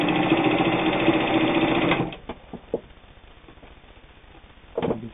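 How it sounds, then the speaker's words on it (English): New Home Type H heavy-duty sewing machine stitching through two layers of heavy denim, a fast close rhythmic clatter for about two seconds, then quiet with a few clicks and a short final burst. "You can see there's no problem there sewing two layers of heavy denim."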